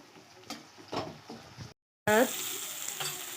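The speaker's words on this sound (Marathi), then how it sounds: "आता हे मिक्सरमधून काढलेली पेस्ट ही आपण फ्राय करून घेऊया" Ground spice paste sizzles and crackles in a hot pan, briefly cut by a silent gap, then a louder hiss as more is added, with a voice speaking.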